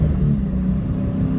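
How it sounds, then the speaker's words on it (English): A 2017 Dodge Challenger T/A with a 392 V8 engine drones steadily at close range, a dense low rumble that holds without a clear rise or fall. "This engine actually likes to rev, up and down real fast."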